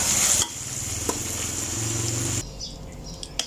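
Pork belly being stirred and tossed with oil in a hot pan for Thai holy basil stir-fry, a steady sizzle with scraping utensil clatter that cuts off, then light clinks of tableware.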